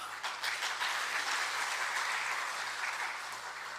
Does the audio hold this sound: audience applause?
yes